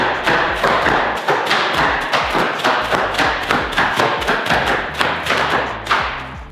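Bubble wrap is popped in a rapid, loud, close run of sharp snaps, several bursts each second in an uneven, continuous rhythm.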